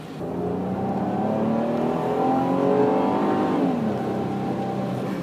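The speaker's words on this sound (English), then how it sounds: "the serpentine belt whines like you've got a Whipple supercharger on it" A 2007 Pontiac G6 V6 engine revs with a high, rising whine from the serpentine belt, close and steady, swelling mid-way then easing back down.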